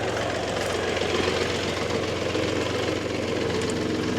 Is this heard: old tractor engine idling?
yes